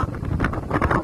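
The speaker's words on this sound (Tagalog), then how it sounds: "Lakas ng hangin." Loud gusting wind rumbles and roars close against the microphone.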